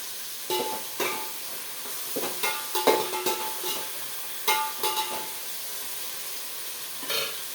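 Tomatoes sautéing in a pan with salt, a soft steady sizzle broken by several sharp scraping stirs of a spoon against the pan, close by and with no talking.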